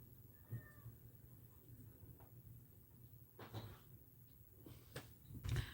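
A house cat gives a few faint meows, with soft thumps and a door or cupboard sound in a quiet indoor room, all fairly distant and low in level.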